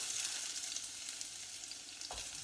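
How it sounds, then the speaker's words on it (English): Onions fry in a very hot pan with a constant, close sizzle and faint hiss, plus one soft knock near the end, with no one speaking. "So the onions are in there cooking."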